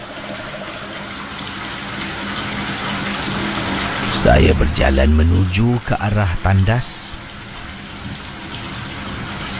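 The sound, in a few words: water running from a tap, filling up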